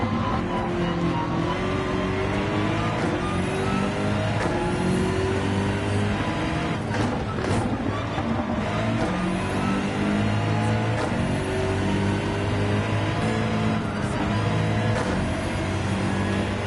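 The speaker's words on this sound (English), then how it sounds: "Oh, that Lamborghini just sounds amazing." A Lamborghini race car engine in Gran Turismo 7 roars loud and steady throughout, with rising and falling revs as it accelerates through gears on a track.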